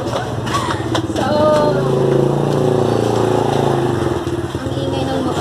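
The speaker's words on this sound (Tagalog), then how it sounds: "ang ingay ng motor, pagpasensyaan niya na" A motorcycle engine runs close by, a steady rumble with slight revving that rises in the middle, heard alone without talk.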